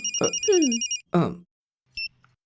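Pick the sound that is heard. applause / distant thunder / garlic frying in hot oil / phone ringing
phone ringing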